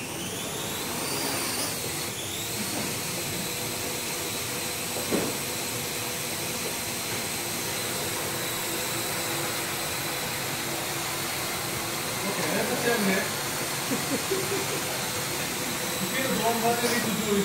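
A small quadcopter drone spins up for takeoff with a steady high whirring hiss that holds throughout and rises slightly near the end, while someone talks over it.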